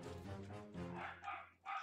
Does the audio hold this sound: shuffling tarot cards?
no